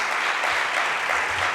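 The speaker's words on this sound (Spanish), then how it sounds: "Un aplauso, por favor, para Enrique." Audience applause for a speaker being introduced at a talk on street education in Spain, steady dense clapping filling the whole moment at moderate loudness with no voices over it.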